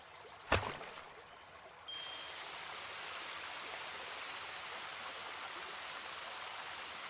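Watering flowers in the farming game Deiland: a sharp click, then a soft continuous splashing rush of water pouring steadily for several seconds, quiet and even.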